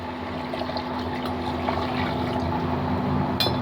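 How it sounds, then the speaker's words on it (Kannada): A little water is poured into a pot of chicken biryani, making a steady, close trickling wash that runs for several seconds over a constant low hum, with no talking. "ಸ್ವಲ್ಪ ನೀರು ಹಾಕ್ತೀನಿ"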